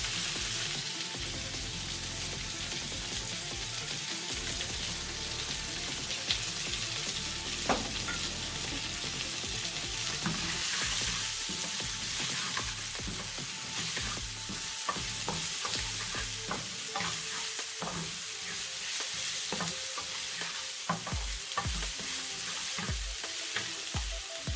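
Chopped onions fry in a pan for chicken lasagna. A steady, loud sizzle runs throughout, with repeated scraping and clacking from a utensil as the onions are stirred.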